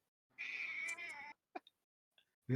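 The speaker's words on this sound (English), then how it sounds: "That's the female cat prisoner right now." An indoor cat lets out one long, drawn-out meow of about a second, close and fairly quiet, followed by a few faint clicks and a brief human sound at the end.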